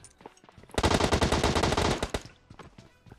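M4 rifle firing in the video game PUBG Mobile, a loud, rapid burst of automatic gunfire lasting over a second, preceded and followed by a few scattered fainter shots and clicks.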